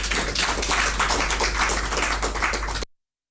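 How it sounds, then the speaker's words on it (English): A crowd applauds at a press event at the Jubilee House, with dense, loud, continuous clapping that carries on for nearly three seconds and then stops abruptly. "And let's clap for NIMOS."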